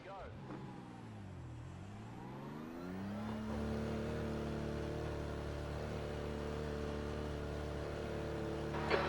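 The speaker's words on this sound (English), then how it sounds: "There's a car approaching." A BMW M4 GT3 race car engine in iRacing at Road America drones steadily, its pitch dipping and then climbing as it revs up into a sustained, loud tone, with a sharp rise at the very end.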